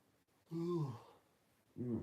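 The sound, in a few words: yawning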